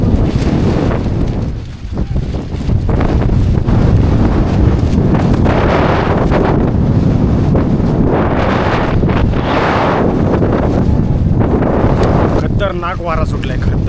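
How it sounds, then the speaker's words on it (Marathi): Strong gusting wind buffets the microphone at a foggy jungle viewpoint on the Adrai trek, a loud, continuous roar that swells and eases for the whole stretch. "खतरनाक वारा सुटलाय, खतरनाक इकडे वारा आहे."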